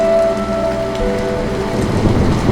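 Heavy storm rain pours in a dense, loud, continuous hiss, with a low rumbling undertone like distant thunder and a few faint tonal hums beneath it.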